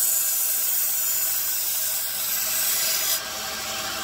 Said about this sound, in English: now what I'm going to do is I'm going to make the angle even sharper, take off some of the burrs